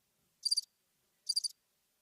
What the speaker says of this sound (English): I got crickets and stuff, too.